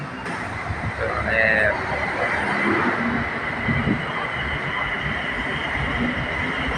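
BTS Silom Line skytrain on platform 3 at Saphan Taksin station, a loud steady rumble and roar of the train throughout, with a brief bright chime-like tone early on.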